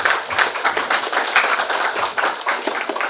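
An audience at an HR conference claps in a dense, steady burst of applause that fills the room, many hands at once, loud and continuous.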